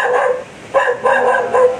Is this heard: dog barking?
yes